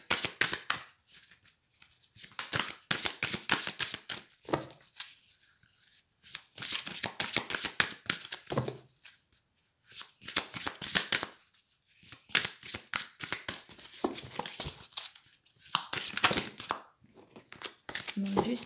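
Tarot cards shuffled by hand in repeated riffling bursts, close and crisp, separated by brief pauses, with someone talking softly in French between and over the shuffles.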